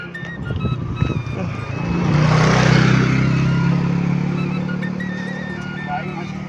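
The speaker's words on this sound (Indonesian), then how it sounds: "Awas mobil awas dek." A car swells up, passes close and fades away on a rural road beside a rice harvest in Sukapura, while people talk nearby.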